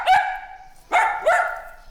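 An imported pet dog barks three times, loud and close, a sharp first bark followed after a pause by two quicker ones.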